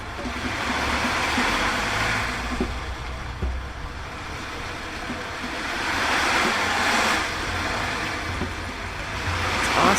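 An ocean drum tilted upside down sends its beads rolling and rushing in slow swells that mimic surf breaking on a shore, a steady wash that rises and falls over several seconds, close up and without talking.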